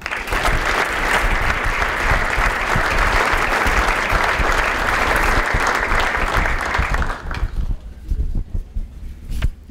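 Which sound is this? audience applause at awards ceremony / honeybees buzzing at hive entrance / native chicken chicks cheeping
audience applause at awards ceremony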